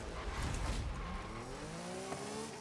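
A car in a racing video game accelerates with a faint, rising engine whine that climbs through the gears, backed by a low rumble and a soft burst of tire noise at the start.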